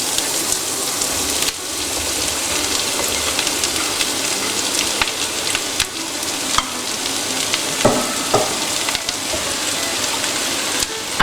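Onion and parsley fry in a pan with a constant close, loud sizzle and crackle, with occasional stirring scrapes, no voices.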